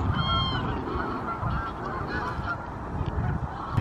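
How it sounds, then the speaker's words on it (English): A large flock of geese honks steadily outdoors, many overlapping calls close and far forming a dense, continuous clamor under wind noise. "look how many geese are here"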